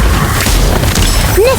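Deep booming blast of a Fantastic bomb in the Harry Potter: Magic Awakened video game, a short, loud, close rumble with crashing debris and a brief voice cry near the end.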